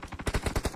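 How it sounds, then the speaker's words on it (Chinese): Rapid automatic gunfire in a battle royale video game set on a snowy night map, a loud close burst of about six or seven evenly spaced shots with no talk. "前面有枪声，"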